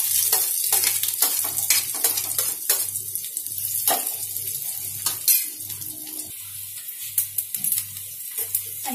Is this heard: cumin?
yes